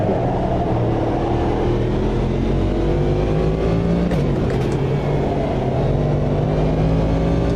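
Race car engines drone loud and close in Automobilista 2 during a two-hour endurance race at Spa-Francorchamps. The sustained roar rises and falls in pitch through gear changes, with other cars' engines layered beneath.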